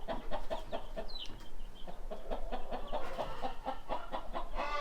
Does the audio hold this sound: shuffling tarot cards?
no